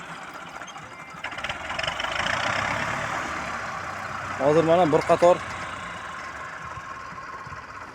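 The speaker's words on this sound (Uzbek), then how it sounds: "Mana bitta Toshkent viloyati Olmaliq tumaniga yasalgan kaselkamizda hozir sinov jarayoni." A tractor drives a mower on a test run in Olmaliq district, Tashkent region, its engine a steady mid-pitched drone under a voice, with a louder rattling burst about midway.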